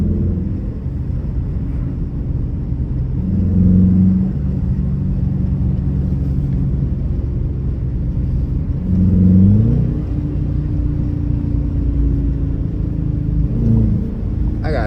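A Dodge Challenger R/T engine drones low and steady during a calm night drive, a close cabin rumble with two brief swells of throttle partway through, and no talking.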